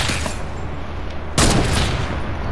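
Sniper gunfire in the video game Fortnite: one sharp, loud shot cracks out over steady game background noise.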